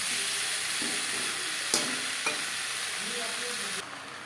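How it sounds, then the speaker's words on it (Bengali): Onion, tomato and potato fry in a pan, making a continuous loud sizzle close by, with a couple of sharp stirring clinks and scrapes partway through. "পেঁয়াজ টমেটো আলুর সাথে হালকা করে ভেজে নেওয়ার পর"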